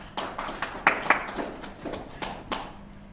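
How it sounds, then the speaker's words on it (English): Applause from a small audience at a national roadshow event in Bloemfontein, a sparse scattering of individual claps rather than a dense ovation, near and moderately loud. "Please welcome her with a round of applause."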